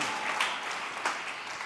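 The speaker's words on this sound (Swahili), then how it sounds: "Yes, tumpigie Roho wa Yesu makofi." A church congregation applauds in a dense, continuous wash of clapping from many hands, fairly distant and even, with a few louder swells.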